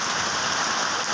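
Rain pours steadily onto trees hung with weaver bird nests, making a dense, even hiss of countless drops, close and unbroken, with no other sounds or voices.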